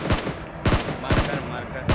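Gunfire in a battle royale video game, loud close bursts of automatic fire in four quick volleys, separated by brief gaps.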